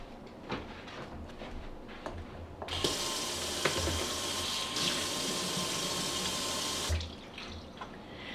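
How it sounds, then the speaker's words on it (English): A kitchen tap runs into a sink for about four seconds as hands are washed clean of sticky garlic, a steady rushing stream with small clatters and drips before and after. "let's wash our hands and get some of this stickiness off from the garlic"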